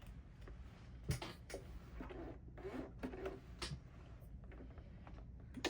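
Sewing machine stitching bias tape onto a skirt, a steady close mechanical whir broken by short bursts of stitching, stops and clicks.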